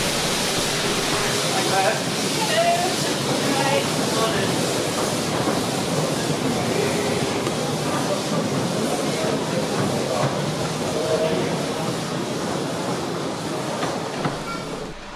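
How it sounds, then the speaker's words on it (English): A Ravenglass & Eskdale miniature railway train, number 24, pulls out of the platform at a gala in Eskdale, with a steady rolling rumble and faint clatter of wheels, fairly near and continuous, and a voice talking over it. "Number 24's train is followed out of the platform by the diesel-engined Perkins."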